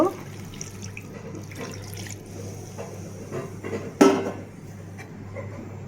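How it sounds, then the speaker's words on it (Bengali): Water broth poured into a pot of cauliflower and snakehead fish curry gives faint splashing and trickling, with a sharper splash near the end over low kitchen hum. "এরপর ঝোল দিয়ে দিব"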